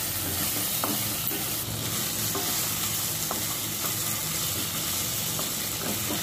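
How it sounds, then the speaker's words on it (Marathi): Marinated fish tossed with browned onions in a hot pan, a dense continuous sizzle with scattered spatula scrapes and clicks throughout, close and fairly loud. "कांदा भाजून झाल्यावर त्यात मॅरिनेट केलेले फिश घालायचे आहे आणि ते सुद्धा अर्धा मिनिट परतून घ्यायचे आहे"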